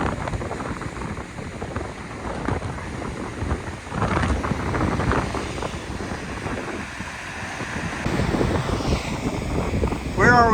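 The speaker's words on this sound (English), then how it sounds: "Very windy, but golly, what a beautiful waterfall." Strong gusting wind buffets the microphone beside the big Salto Grande waterfall in Torres del Paine, Patagonia, a steady roaring rush that stays loud throughout, with brief talk near the end.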